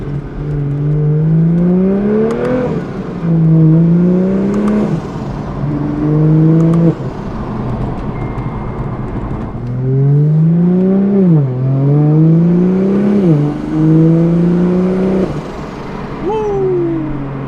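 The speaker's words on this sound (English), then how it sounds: "Turbo flutter." A single-turbo BMW F82 M4 running in limp mode, heard from inside the car, rises repeatedly in engine pitch and fluffs its turbo with a flutter at each lift-off, with loud engine drone throughout.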